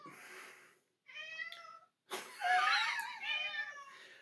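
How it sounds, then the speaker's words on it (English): A house cat meows several times in close, clear succession, the calls rising and bending with short gaps between them and no talk over them. "Of course, the cat."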